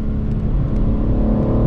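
A race car engine in a rainy racing video game drones steadily at high revs, loud and continuous, with a slight change in pitch like a short-shift gear change.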